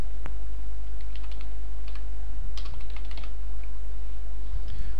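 Text is retyped on a computer keyboard, a run of quick light key clicks in irregular bursts, close and clear over a constant low electrical hum.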